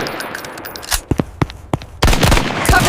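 A movie shootout fills with gunfire: a few sharp separate shots, then a dense burst of rapid overlapping fire, loud and close, with no voices.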